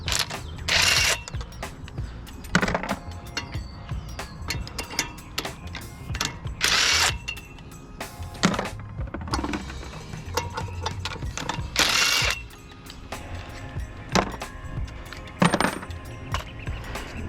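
A ratchet loosening the lug nuts to take a wheel off a Ford F150: repeated close clicking ratchet runs and metallic clanks, spaced in bursts, fairly quiet with workshop background.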